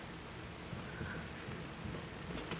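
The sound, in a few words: rain in a film scene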